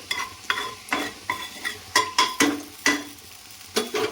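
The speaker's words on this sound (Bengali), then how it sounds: "এবার তেলের মধ্যে সামান্য একটু চিনি দিয়ে দিলাম" Sugar sprinkled into hot oil in a pan with spices for a Bengali dhokar dalna, heard as a steady low sizzle broken by about ten sharp, evenly spaced scraping stirs of a spatula against the pan, close and alone.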